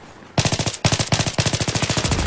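Sustained automatic gunfire from a Battlefield 3 team deathmatch, a rapid regular rhythm of loud close shots in three bursts with short gaps between them, heard alone without talk.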